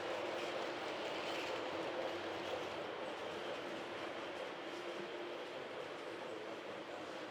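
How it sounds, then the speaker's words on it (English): A small model train rumbles steadily along its track on a club layout, a continuous clattering whir at moderate volume with no talking. "we can run trains all over into the train yard and all over the track here"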